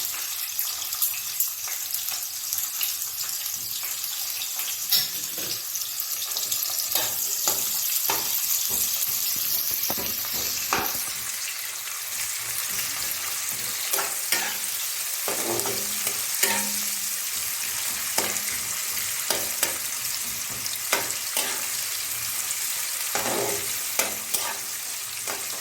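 Chopped onion fries in hot oil with cumin and bay leaves, giving a steady close sizzle broken by repeated scraping and clinking of a spatula stirring the pan, with no talk.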